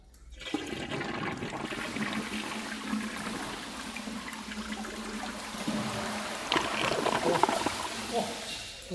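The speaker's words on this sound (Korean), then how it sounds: "물 한번 내려 보겠습니다" A two-piece toilet flushes with a sustained rushing gurgle of water that swells toward the end, heard close up and steady over the whole stretch.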